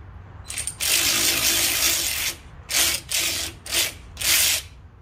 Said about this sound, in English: I know it's noisy, but I love my power ratchet.